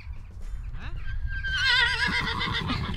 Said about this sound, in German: Tommy, ich glaube, so verjagst du die Pferde.